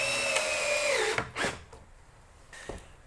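Power drill driving screws into the inner leg top of a wooden bench; a steady whining drill run ends in a winding-down whir, followed by short bursts of drilling, close and moderately loud.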